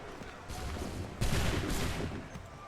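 Musket volleys crack in Assassin's Creed III, dense overlapping gunfire bursts swelling at about half a second and again stronger past one second, a loud sustained fusillade with distant battle din.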